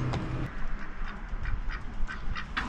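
A duck quacks repeatedly in a steady series of short, loud calls close by, with outdoor background noise and no talking.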